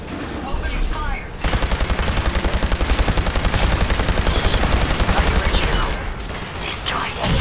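Rapid automatic gunfire in Fallout 4 rattles out in a dense, fast burst lasting several seconds, loud and close, before trailing off into quieter game sounds.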